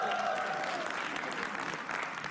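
An audience at a comedy roast show claps in a brief, steady burst of applause. It sounds fairly faint and fills a short stretch, while a sustained tone fades out underneath at the start.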